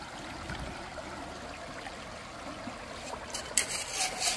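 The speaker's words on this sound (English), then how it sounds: "it's definitely optimal water flow" Water flows steadily at a gold prospecting spot on an Indiana stream, a faint, even rush. A few brief knocks and rattles come near the end.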